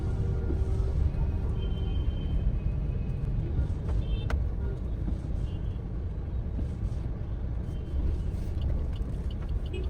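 Steady Mumbai road traffic rumbles throughout, with cars and buses passing close by in a continuous low roar, a brief brake hiss near the middle, and faint voices under the noise.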